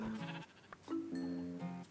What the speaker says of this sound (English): A gray sheep.